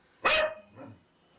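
A dog barks once sharply at close range inside a home, followed by a softer, shorter bark, then quiet.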